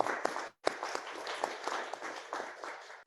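Applause from participants at home in an online support-group meeting, coming through as a faint, steady patter of many hands with a brief dropout, no talk over it.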